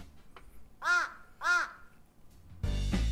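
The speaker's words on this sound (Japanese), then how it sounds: "このカラス。 うるせえカラスを期待してたんだけど、これか。" Recorded crow sample giving two loud, harsh caws spaced about half a second apart, close and clear against a quiet background, followed by a burst of low rumbling handling noise.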